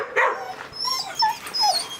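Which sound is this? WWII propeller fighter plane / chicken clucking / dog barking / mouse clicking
dog barking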